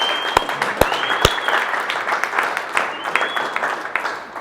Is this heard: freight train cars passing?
no